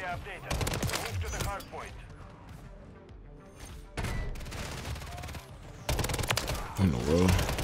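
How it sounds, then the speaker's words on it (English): A WSP 9 submachine gun fires in Modern Warfare 3, sounding in rapid full-auto bursts separated by short pauses, loud and close, with the last burst trailing off. "This thing damn near sounds like the Uzi, has the same fire rate of the Uzi."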